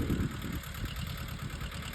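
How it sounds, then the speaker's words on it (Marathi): A farm tractor's engine running near at a steady idle, a continuous rough low rumble with a knocking pulse and no voices. "ट्रॅक्टर चालू आहे आपलं तुम्हाला दाखवला"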